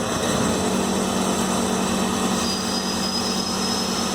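Omni Turn lathe with a bar feeder pulling bar stock while making custom flintlock screws, a steady loud mechanical whir and grind with a sustained low hum, running continuously throughout.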